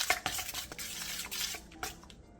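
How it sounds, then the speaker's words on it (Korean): A batter of chili pepper, egg, flour and water is stirred in a bowl, giving soft repeated wet swishes and light clinks of a utensil against the bowl, close and fairly quiet. "볼에 청양고추, 계란 1개, 밀가루 1컵, 소금 1티스푼, 물 1컵, 다진 마늘 3분의 1스푼을 넣고 골고루 섞어주세요."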